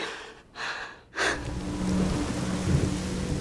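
Steady rain falls with a deep thunder rumble rolling in partway through, a continuous close wash of noise with no talking.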